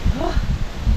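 Strong wind buffets the microphone on the Pacific coast road at Dingalan, a steady low roar throughout, with a voice faintly mixed in.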